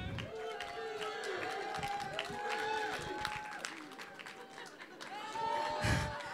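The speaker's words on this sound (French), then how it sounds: "on peut les applaudir de nouveau" Audience applause and cheering for guests at a live French podcast show, a dense, steady crowd roar with scattered whoops, loud and close throughout, voices mixed in.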